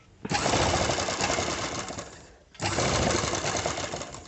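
A sewing machine stitches an embroidery work blouse in two loud, rapid whirring bursts, the motor running about two seconds each with a short pause between.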